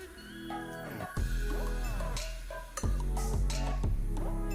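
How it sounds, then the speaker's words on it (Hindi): A spoon stirs dry spices and chopped coriander into a grated radish paratha filling in a metal pan, giving repeated ringing clinks and scrapes against the pan in an uneven rhythm, close and fairly loud. "सब चीज़ों को अच्छी तरह से मिक्स कर लेंगे।"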